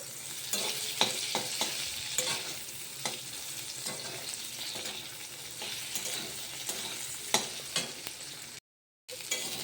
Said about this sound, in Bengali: প্রথমে আমি পনিরটা ভেজে নিচ্ছি